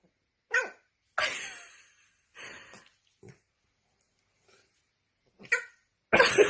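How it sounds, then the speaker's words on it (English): A dog barks close by in several sharp, separate barks with silent gaps between them, ending in a louder burst. "This is my dog Duck"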